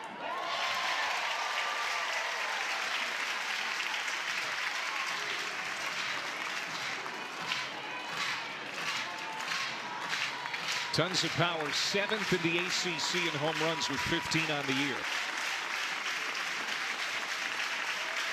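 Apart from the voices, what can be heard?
softball crowd cheering for the batter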